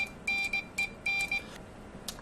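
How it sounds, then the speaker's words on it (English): A faint series of short and long high-pitched tones keyed in a rhythmic pattern over a low background hiss: the Morse code letter R sent in CW over ham radio. "And then we have an R. Sometimes that's sent twice."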